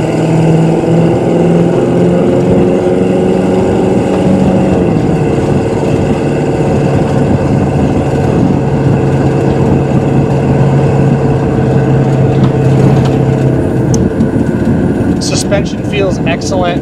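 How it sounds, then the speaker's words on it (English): A car engine and exhaust build and rev under load while driving, a loud, continuous droning roar with shifting pitch and a change partway through, close and filling the cabin throughout. "We'll get on it one more time here so you can hear the exhaust."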